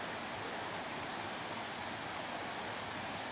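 Waterfall near Skenfrith beside an old wooden bridge, heard as a faint, steady broadband rush of falling water that stays constant and unbroken, with no voices.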